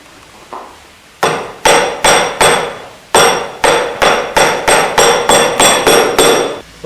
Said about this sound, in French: Ce travail s'effectue manuellement au ciseau et au maillet.